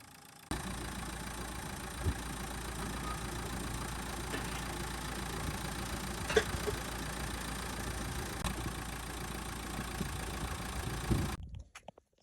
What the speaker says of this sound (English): So I'll just switch the engine off.